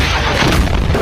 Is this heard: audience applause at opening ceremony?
no